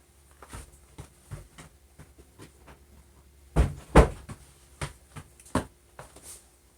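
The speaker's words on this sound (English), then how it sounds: "Got to close the door." Indoors, a door closes with a couple of sharp knocking thuds near the middle, followed by lighter scattered clicks and taps, and no voices.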